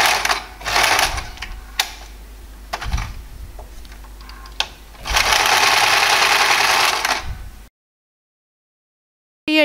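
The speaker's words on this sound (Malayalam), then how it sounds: "നല്ല സൈഡിലേക്ക് മടക്കി തയ്ക്കുക." A sewing machine stitching the folded hem of old saree fabric, giving short bursts and one longer steady whir, with rapid rhythmic clatter and pauses between, close and loud.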